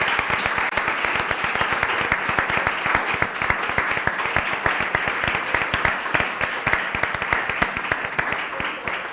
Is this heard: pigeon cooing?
no